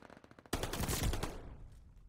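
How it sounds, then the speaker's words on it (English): A Sten gun in a video game fires a rapid burst of shots, a dense crackling volley that starts abruptly and tails off over about a second and a half. "Who the hell is using a Sten with rapid fire?"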